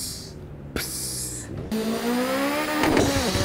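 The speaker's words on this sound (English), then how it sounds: "Oh, the turbo sound goes" A racing game S15 car engine in a sim racing game climbs in pitch with a high turbo whine and a brief hissing burst, loud and continuous, no talking.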